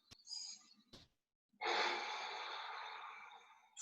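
Deep yoga breathing, heard close and alone: a short inhale, a brief pause and a quick sniff, then a long, steady, breathy exhale that fills most of the moment.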